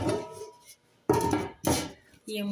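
A metal pot handled while ingredients go in, with sharp clanks and scraping bursts separated by short pauses, loud and close; a voice speaks faintly at the start.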